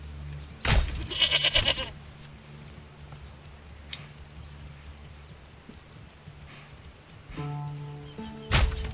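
Goats in the medieval village game Manor Lords bleat in short bursts at the start and near the end, over a quiet ambient bed with a few clip-clopping footsteps.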